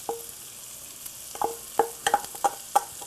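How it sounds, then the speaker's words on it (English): Minced shallots sautéing in a pan, a soft, close sizzle broken by a series of light clinks and scrapes from stirring, growing busier toward the end. "Get them in there, saute those babies a little bit"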